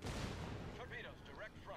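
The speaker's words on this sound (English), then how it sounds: "we got a torpedo hit" A torpedo strikes a ship in a naval battle game, a low heavy rumbling blast under ongoing combat noise, with a voice talking over it.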